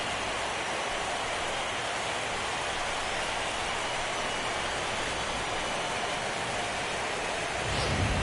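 Steady rain pours down at a 2017 White Sox playoff baseball game, a dense, even hiss holding at one level throughout, with a slightly louder rustle near the end.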